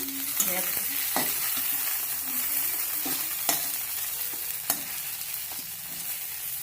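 Fish curry sizzles steadily in a hot pan, a constant close frying hiss broken by a few sharp scrapes and taps of a spoon, with no talking.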